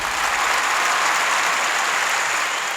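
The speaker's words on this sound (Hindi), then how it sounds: "देखिए ये तालियां भी यहाँ जॉन ही ने खुद लगा दी" Dense, steady applause added as a sound effect by the recordist, a continuous wash of many clapping hands at constant loudness with no voices.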